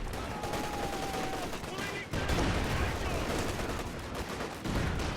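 Machine gun fire in Company of Heroes 2, with sustained rattling bursts that blend into a dense battlefield din of other gunfire and explosions.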